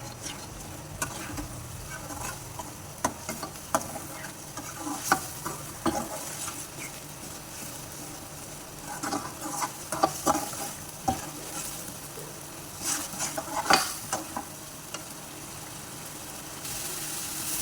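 Green chilli keema mince roasting in a pan, a steady sizzle with repeated scraping and stirring strokes, close and moderately loud, with no talk.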